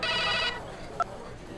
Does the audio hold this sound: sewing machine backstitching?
no